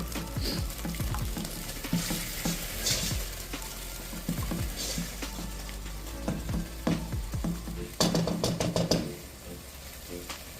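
Mocotó with tomato sauce coming to a boil in a pot, sizzling and bubbling under repeated spoon knocks and scrapes as it is stirred, with a louder clatter toward the end.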